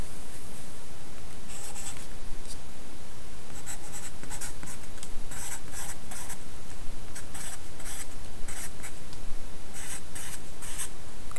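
Pencil or pen writing numbers by hand on paper, close-up scratchy strokes in short repeated bursts with brief pauses between digits, loud and dry with no talk.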